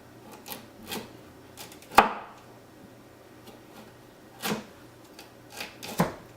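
A knife cuts through vegetables for a fish banh mi in a series of crisp, separate chops, one sharp cut standing out, with short quiet gaps between strokes and no talking.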